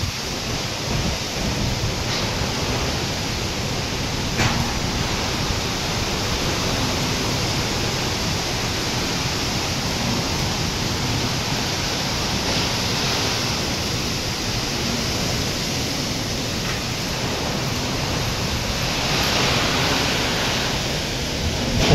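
Strong super typhoon wind roars without pause around a house whose neighbors' metal roofing sheets are being torn loose, a loud, unbroken rushing like heavy surf, with no talk heard.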